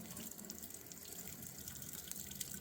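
Hot water runs steadily from a tap fed by a tankless water heater, a constant faint hiss and splash with no pauses.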